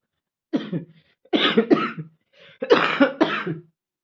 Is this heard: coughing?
yes